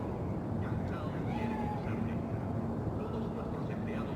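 A cat meows in the video game Cyberpunk 2077, giving a few faint, short calls over steady background ambience and low music, with speech present.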